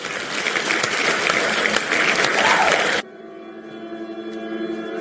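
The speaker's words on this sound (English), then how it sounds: "round of applause for Hurricane Slayer" Dense, sustained audience applause that cuts off abruptly partway through and is replaced by quiet tonal background sound.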